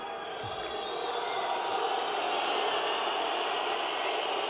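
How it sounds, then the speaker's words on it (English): A large arena crowd at an EHF Euro 2012 handball match between Serbia and Sweden bays and whistles in a steady, dense roar that holds loud and unbroken throughout. "Crowd doing their best to unsettle the Swedes with the usual baying and whistling going on"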